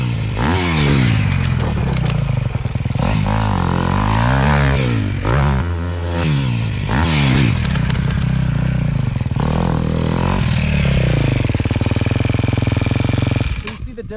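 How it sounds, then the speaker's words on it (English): A dirt bike engine drones and rises and falls in pitch as the rider pulls the clutch in and locks the rear wheel into a long skid, with scraping and clatter mixed into the close, loud engine noise. "I'm just gonna pull the clutch in and do a huge skid"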